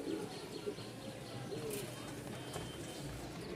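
Pigeons cooing softly in a pigeon loft, with low, repeated coos amid faint background noise and quiet room ambience.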